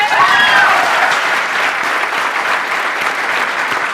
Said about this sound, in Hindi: इन लोगों के लिए जोरदार तालियां।